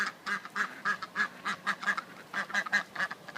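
A white duck and mallard hens quack in loud, rhythmic bursts, about a dozen calls close by, with chickens also present.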